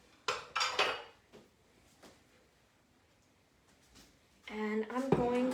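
Dishes and utensils clatter as they are moved to a kitchen sink while making shrimp salsa, a few sharp clinks and knocks in short bursts, with a person talking near the end.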